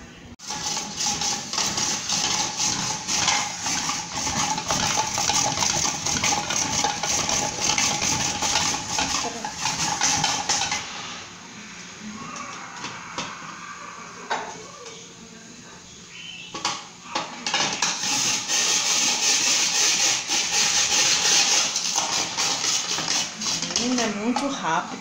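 A Tupperware Fusion Master food processor chops carrot in a steady, loud, continuous whir, which pauses briefly midway and then starts again.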